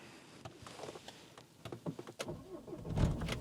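A Renault Vel Satis diesel engine cranks and starts, quiet clicks and whirring rising into a louder low rumble at the end, heard close with no talk.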